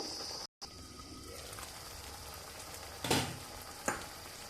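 Masala sautéed with tomato in a pan for a Bengali fish curry, a soft low sizzle after a brief cut, with two louder stirring scrapes near the end.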